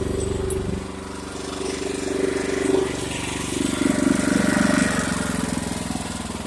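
Small engine on a Harbor Freight trencher runs steadily and loudly close by, a continuous low droning hum with slight swells in level throughout.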